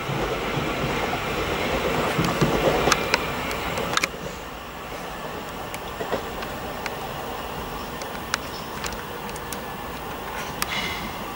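A Thameslink Class 700 electric multiple unit pulls away from Preston Park station, a loud steady rumble of wheels on rail with scattered clicks and squeals as the train passes close by, then fades.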